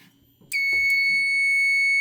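Wheelock fire alarm horn on an MS-10UD sync system during a test, bursting on suddenly after a quiet moment and then holding a loud, continuous, piercing tone.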